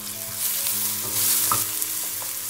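Sliced onions fry and sizzle in a pan as turmeric powder and green chili paste are stirred in for stuffed eggplant, a steady loud sizzle with scraping spoon strokes and small clinks, no voices.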